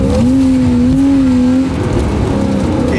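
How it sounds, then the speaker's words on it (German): A BMW 325i E36 engine hums steadily and loudly while the car drives, with a sustained droning tone that holds for most of the stretch before easing into road and cabin noise. "Das Auto hat ein paar PS, also es ist ein 325i"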